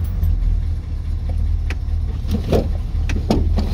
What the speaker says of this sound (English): Let's just drive it around the country roads and see how it drives.